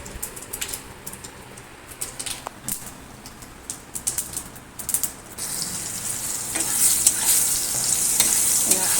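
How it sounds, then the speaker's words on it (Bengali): Dried red chillies and mustard seeds sputter in hot oil in a pan as a tempering, with scattered crackles and pops that swell into a denser, steady sizzle in the second half, close and loud with no talk. "কড়া বসিয়ে দিয়েছি শুকনো লঙ্কা সর্ষে ফোড়ন দিয়ে নিয়েছি একটু ভাজা ভাজা গন্ধ উঠলে"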